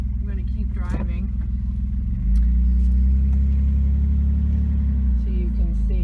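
A car's engine rumbling steadily as it drives slowly through Cedar Glades Park in Hot Springs, Arkansas, with a deep cabin drone that swells partway through, while a person talks over it.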